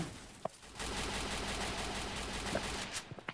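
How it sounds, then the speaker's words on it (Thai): A teammate's gun fires a sustained burst in the mobile battle royale game Free Fire, a continuous dense crackle lasting a few seconds, with a couple of sharper isolated shots before and after. "เพื่อนยิงอยู่ เราปล่อยเพื่อนยิง"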